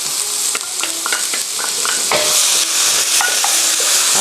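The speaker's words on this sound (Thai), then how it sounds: "ผมจะใส่นี่ลงไปผัดกันเลยแล้วกันจะได้ไม่ร้อนมากนะฮะ" Ingredients with fermented soybean paste are stir-fried in a pan for a vegetarian shiitake mushroom gravy noodle dish: a loud, close sizzle that swells midway, with light utensil clinks throughout.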